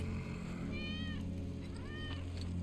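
Cat meowing in the video game Final Fantasy 7 Remake: two short, bright meows a second apart, rising then falling, heard over a steady low ambient drone of the game's environment.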